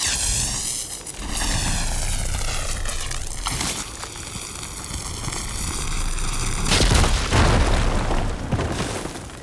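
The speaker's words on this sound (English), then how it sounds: "Should be able to blow up that fire gleam." In the video game Horizon Forbidden West, a fire gleam explodes with a deep booming burst, accompanied by sweeping whooshing tones and a rumbling layered roar that swells again near the end.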